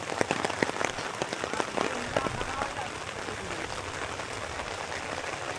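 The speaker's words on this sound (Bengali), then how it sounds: "আলমাস বৃষ্টিতে আমার মাথা ভিজে যেতেছে" Steady rain pattering on surfaces outdoors during work, dense and close, with sharper drops and knocks clustered early before settling into an even wash of falling water.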